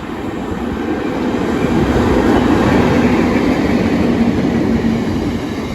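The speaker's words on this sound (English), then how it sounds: "Now approaching is the early 1355 GB rail freight service from Wembley to Donsmore." A GB Railfreight freight service from Wembley, hauled by Class 92 electric locomotives 92032 and 92044, approaches through Ashford International with a loud, steady rumble and roar that swells slightly as it draws closer.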